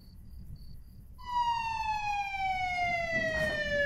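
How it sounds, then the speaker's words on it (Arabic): An ambulance siren in an Arabic TV drama series starts abruptly after faint beeping and then wails loudly and steadily, close by, with a rising rush of noise near the end and no talk. "الإسعاف وصلت"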